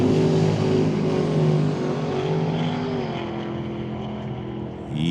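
A Canada West Doorslammers drag car, John DeYoung's, roars down the strip at the LORDCO event, a loud sustained engine howl that holds for several seconds and slowly fades as it pulls away.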